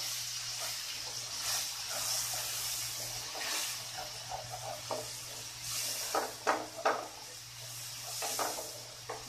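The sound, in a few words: stirring chili-turmeric spice paste into jackfruit curry in a pan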